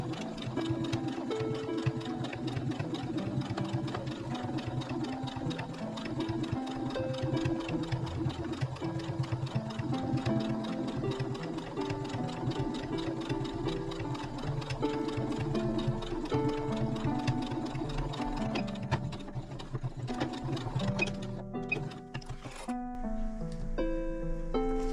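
Sewing machine edge-stitching the side of a simple fabric pouch, running in one steady, rapid mechanical whir for most of the clip, then slowing and stopping near the end.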